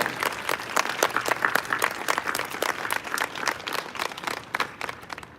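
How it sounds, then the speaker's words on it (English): An audience at a military induction ceremony for a lieutenant colonel breaks into sustained applause, a dense, even patter of many hands clapping with no voices over it. "If you would please give a round of applause for the induction of Lieutenant Colonel William L."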